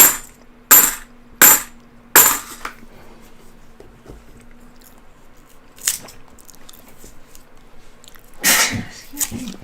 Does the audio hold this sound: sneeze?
yes